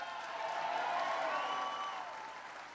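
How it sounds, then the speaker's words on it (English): A crowd applauds and cheers at a Labor Day rally in Milwaukee, a broad, steady wash of clapping that holds loud for nearly three seconds before easing slightly. "Give Chris a big round of applause for that great introduction."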